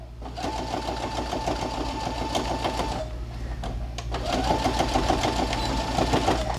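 Sewing machine running in two steady bursts with a short pause between, stitching a pocket onto a fat-quarter fabric roll-up pouch, close and continuous with a whirring hum.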